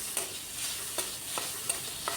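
Paneer and coconut stuffing frying in a pan, a soft continuous sizzle with a few light scraping strokes of a spatula, faint and close.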